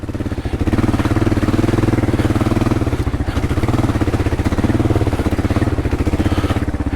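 A motorcycle on Bridgestone AX41 adventure tyres revs in pulsing bursts as the rear tyre spins and slides in mud, the engine loud and close with no talking.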